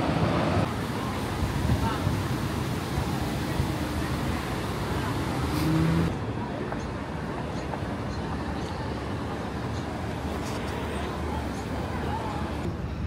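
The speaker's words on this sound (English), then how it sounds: "I should have brought the mic because these trucks is loud" Heavy trucks roar past on a busy city road in Washington, DC, a loud continuous rumble of traffic that eases slightly after a few seconds, with a voice talking over it.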